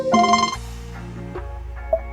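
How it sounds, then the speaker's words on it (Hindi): A ringtone from a Ford EcoSport infotainment system plays as a bright, tonal melodic chime, loud at first and then settling into softer sustained tones with a brief accent near the end. "तो कुछ इस तरीके के हैं वो रिंगटोन्स।"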